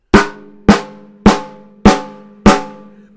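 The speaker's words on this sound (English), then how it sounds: "Here's a snare drum with a stick." A snare drum struck with a drumstick five times at a steady, even pace, each hit a sharp, loud crack with a ringing buzzy tail, close and alone.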